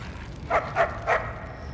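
A dog in the Mad Max video game gives three short, even barks, moderately loud over a low ambient game rumble.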